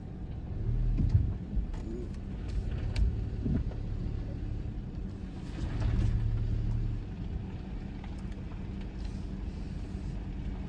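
A car rolls slowly down a forest path toward a drive-through tree, giving a continuous low engine rumble and road noise close by. Small swells come and go, with no voices.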